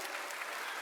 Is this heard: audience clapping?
yes